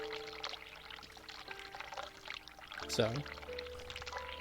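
Hot water pours steadily from a tap in the Vincent is a Cat Lady video game, a continuous watery rush that runs under a man's speech.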